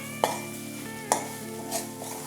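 A spatula stirs a pan of egg and drumstick-leaf stir fry with crushed spice paste, making three or four quiet, sharp scraping clinks spaced apart over a steady low background hum.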